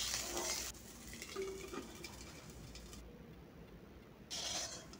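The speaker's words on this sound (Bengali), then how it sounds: "সেম তেলে আমি ধনেপাতাগুলোকেও ভেজে নেব" Coriander leaves frying in oil give a faint, soft sizzle with light stirring and scraping, quieter in the middle and fuller at the start and end.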